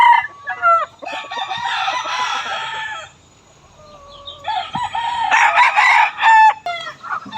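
A Gilmore Sweater gamefowl rooster crows loudly and close by, two long harmonic crows separated by a brief lull, with shorter clucking calls at the start and end.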